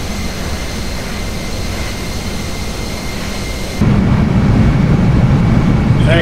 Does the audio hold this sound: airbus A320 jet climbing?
yes